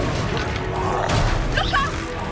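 An Expelliarmus spell cast in Hogwarts Legacy bursts out with a dense, crashing swoosh and a bright, crackling shimmer near the end, thick with game sound throughout.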